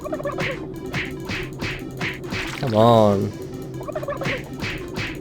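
Cartoon turkeys gobble repeatedly in the Super Turbo Turkey Puncher 3 video game, a rhythmic series of bright warbling calls with one louder, drawn-out gobble near the middle, over a steady game music loop, with a brief spoken remark.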